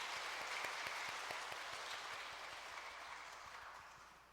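Church congregation applauding together during a Sunday service, a steady crowd of hand claps that fades slightly toward the end, with no speaking.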